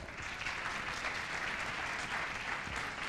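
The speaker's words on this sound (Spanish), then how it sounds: "Un fuerte aplauso para ellos." Audience applauding at the opening of a pastoral conference, a continuous, even wash of clapping from a sizable crowd, steady and moderately loud for the whole stretch.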